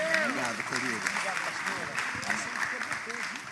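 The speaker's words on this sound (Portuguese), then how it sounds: "Bata palmas e dê glória a Deus" A church congregation claps during a Portuguese-language worship service, the applause moderate and somewhat distant, mixed with a voice and tonal musical sounds throughout.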